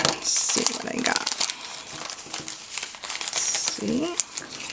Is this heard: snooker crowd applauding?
no